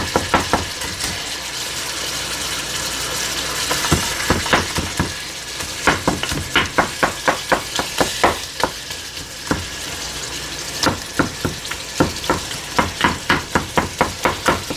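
Ground meat being broken up and fried with onions in a pan, a steady loud sizzle punctuated by rhythmic scraping and tapping strokes of a utensil against the pan, close up with no talking.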